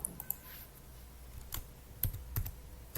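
Someone types on a computer keyboard in a terminal, a quiet room with scattered soft keystrokes and a few louder clicks in irregular rhythm, close by.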